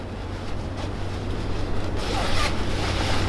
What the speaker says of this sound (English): It has a single zipper down the front